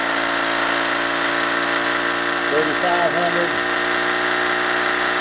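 A fast-spinning ORBO-style electric motor gives a steady high whine with layered tones, while a man reads out a number over it.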